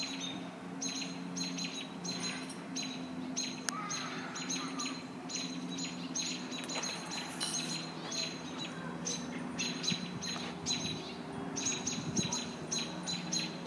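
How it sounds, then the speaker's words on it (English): Small birds call repeatedly while mobbing a hawk, sharp chirps and tweets coming in irregular clusters at moderate distance over a quiet outdoor background for about fourteen seconds. "Birds keep swooping down and hitting them."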